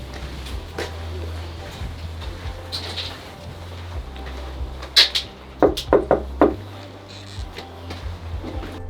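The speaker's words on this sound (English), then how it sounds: "I think Mark's going to knock on the door now." A series of knocks on a house door comes in a quick cluster of four or five sharp raps midway through, with a low steady hum and faint household noise underneath.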